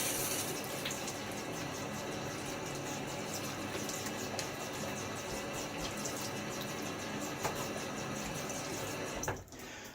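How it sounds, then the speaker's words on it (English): Running water splashes steadily as a face is rinsed after a wet shave at a sink, a continuous close wash of flowing tap water that cuts off abruptly near the end. "Let's rinse this off."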